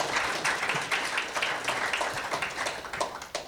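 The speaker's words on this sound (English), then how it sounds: "let us have one more round of applause for all three of our presenters" Audience applause for three presenters at a civic club meeting on homelessness, a steady, dense round of clapping from a room of listeners, sustained throughout with no talk over it.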